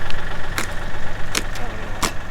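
Tractor engine running steadily at close range while it lifts a four-post car lift off a trailer, with a constant low drone broken by a few brief sharp knocks.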